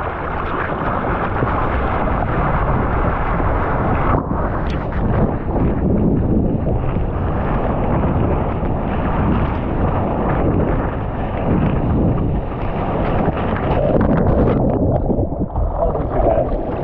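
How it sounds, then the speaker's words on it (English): Steady wind buffeting the microphone outdoors on Oahu, Hawaii, a loud continuous low rumble with gusty swells throughout and no talking. "It's pretty windy out here."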